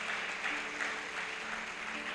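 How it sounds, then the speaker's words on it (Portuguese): Congregation applauding during an evening church service, a steady, dense wash of clapping filling the whole moment without any voice on top. "Você pode aplaudir ao Senhor nessa noite"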